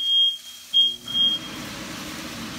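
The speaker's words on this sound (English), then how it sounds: "I'm going to say good night while we get the smoke alarm dealt with." A high electronic kitchen smoke alarm beeps in short bursts, then holds a steady tone over a low background rumble.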